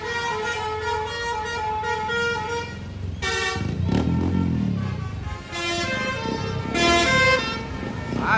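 Bus and truck telolet horns honking outdoors, loud melodic multi-tone blasts in overlapping bursts, one horn sounding steadily before others cut in with a deeper rumbling engine underneath.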